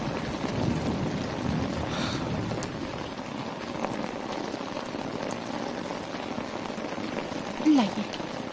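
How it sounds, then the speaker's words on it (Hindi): Heavy rain pours in a steady, dense hiss on surfaces, continuous and fairly loud, with a person speaking over it. "बारिश बहुत तेज है"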